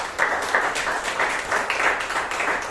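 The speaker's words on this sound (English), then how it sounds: "please give Brian a huge round of applause" Steady applause from a Toastmasters club audience in Bangalore honouring a member, dense and continuous, moderately distant and without speech.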